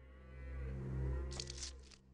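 A cow moos in the Warcraft: Lord of the Clans PC game, one long, loud, low lowing call that swells and fades, with a brief burst of hiss and clatter near its end.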